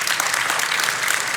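An audience at a clinical conference session claps for the panelists, a dense and steady burst of applause with no voices heard over it.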